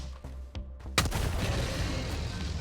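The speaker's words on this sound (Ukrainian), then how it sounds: "Снайперська гвинтівка з вибуховими снарядами" An explosive-round sniper rifle fires in Helldivers 2: a loud sharp shot followed by a booming blast that rolls into a sustained rumbling tail, with faint quieter thuds just before.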